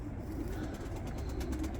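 Pigeons cooing softly in three coops, a low steady murmur of overlapping coos with faint rustling throughout, fairly close and continuous.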